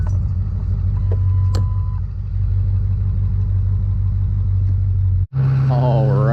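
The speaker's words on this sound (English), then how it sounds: "Alrighty, we got her running. She's getting all warmed up here." A truck engine idles steadily as it warms up after maintenance, a constant low rumble running close and loud, with a brief cut near the end before a higher whine picks up.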